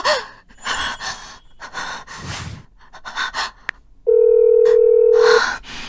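Gasping, panting breaths, then a steady telephone ringback tone drones on for over a second with no one picking up.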